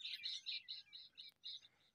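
Bulbul birds chirp near a trap in a rapid series of bright, high tweets, about a dozen notes in two seconds, fairly faint and with no voices.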